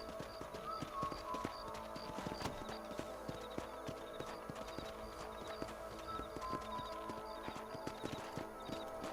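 Horse hooves clip-clopping at a steady galloping rhythm in the Red Dead Redemption video game, mid-distance and fairly quiet, with a brief whinny and game ambience beneath.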